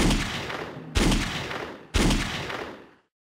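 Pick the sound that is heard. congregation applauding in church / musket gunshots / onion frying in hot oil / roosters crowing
musket gunshots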